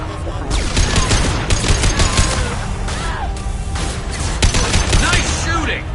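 Rapid bursts of gunfire in the sci-fi shooter Mass Effect 2, with dense, overlapping shots and sharp cracks continuing steadily for several seconds amid a busy battle soundscape.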